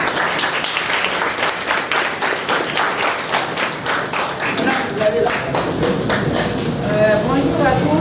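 Applause for the town mayor of Matam at a primary school leaving certificate (CEE) ceremony: dense, steady clapping from a crowd lasting throughout, with voices mixed in beneath it.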